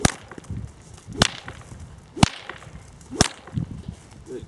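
Whip cracks near a horse being gun broken: three crisp, loud snaps roughly one second apart, after a softer hit at the start, with faint rustling between.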